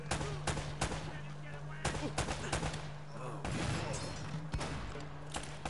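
Rapid bursts of video game gunfire in Uncharted, shots repeatedly fired at a barrel, dense and loud over a steady droning hum, with a voice talking over the shooting.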